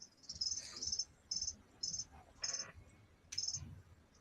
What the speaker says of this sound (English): Someone's got crickets though.